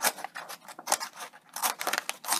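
Small scissors on a Victorinox Manager pocket knife cutting through a piece of paper, a rapid series of close, crisp snips and rustling paper slices in a quiet setting.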